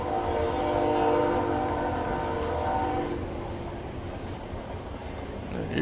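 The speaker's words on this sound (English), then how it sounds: "You could probably hear the clickety-clack of the rails as the train has passed by" A train rolling past outside the right field fence at J.C. Love Field ballpark, a loud, continuous rumble with a sustained horn tone that fades as the wheels keep grinding over the rails.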